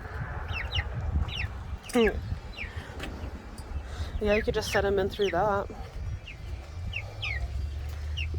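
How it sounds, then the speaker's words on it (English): Chickens squawking and clucking inside a newly built Aosom coop, with several sharp rising cries in bursts, close by, while people talk intermittently. "She's gonna start squawking."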